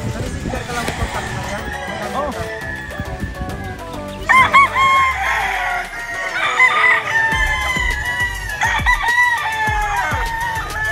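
Roosters crow repeatedly, loud and close, with hens clucking in between on a busy farmyard.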